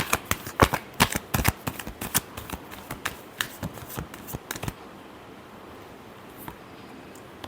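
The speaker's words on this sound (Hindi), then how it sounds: "Last shuffle." A deck of tarot cards is shuffled up close, a quick run of crisp riffling snaps and flutters for several seconds before settling into quiet.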